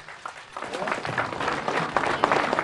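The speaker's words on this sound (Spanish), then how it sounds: "recibámoslo con fuerte aplauso a nuestro hermano" A crowd claps steadily at a public housing handover ceremony in Tarija, Bolivia, a dense patter of applause that builds slightly over a couple of seconds, with a voice faintly underneath.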